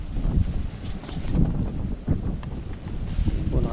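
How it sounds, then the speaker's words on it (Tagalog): Strong, gusty typhoon wind buffets close by in uneven rushes, rising and falling over a low rumbling roar. "Dahil mas malakas po yung hangin."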